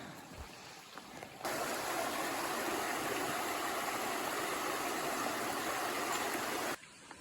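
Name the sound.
stream flowing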